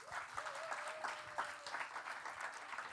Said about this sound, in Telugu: let's clap for చెరియా